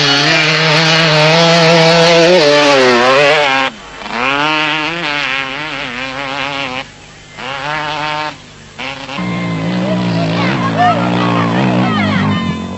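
Kawasaki KDX 200 and KTM dirt bikes racing in the 1996 Toyota 1000 off-road race: loud, buzzing two-stroke engines rev and wail continuously, rising and falling in pitch with a few brief drops as the throttle is chopped.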